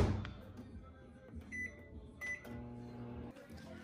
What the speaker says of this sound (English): I just took it out of the microwave